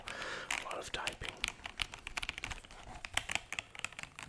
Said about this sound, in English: I really want a satisfying, cool keyboard. If I'm going to be typing a whole bunch